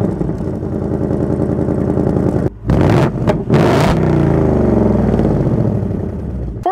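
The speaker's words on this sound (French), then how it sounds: "un diffuseur arrière noir dans la version Dark Horse avec 4 énormes pots d'échappement" A 2024 Ford Mustang Dark Horse V8 revs loudly through its quad exhaust, steady engine drone broken by sharp blips of the throttle before settling back into a rumbling idle, close and alone.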